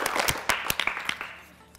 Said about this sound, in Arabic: صفقوا لهم العيد